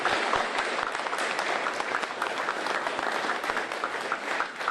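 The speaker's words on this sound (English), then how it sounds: "applause." Applause for rural fire service medal recipients at a ceremony, a dense, even roar of clapping from a sizeable audience that holds steady for several seconds without talk over it.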